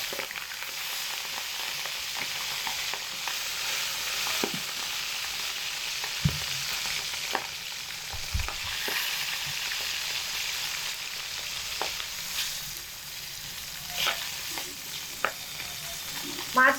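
Fish heads frying in hot mustard-style oil for Bengali murighonto, a soft steady sizzle throughout with scattered knocks and scrapes of a spatula turning them in the pan, fairly quiet and close, no voices.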